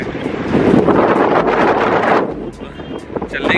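Strong wind gusts at Tiger Point, Lonavala, buffeting the microphone in a loud, rushing roar that eases slightly toward the end, with faint voices in the background.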